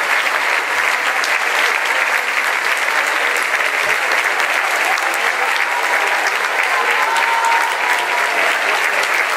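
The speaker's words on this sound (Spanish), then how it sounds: "Un aplauso de pie para todas estas personas extraordinarias artistas de talla internacional." A standing crowd gives a military symphony orchestra, band and folkloric ballet a sustained ovation, with dense, even applause from many hands that stays loud for the full span.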